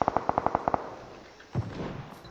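Gunfire in the PUBG Lite video game: a rapid burst of about a dozen sharp shots in quick rhythm, then a pause and a single heavier thud followed by a low rumbling tail.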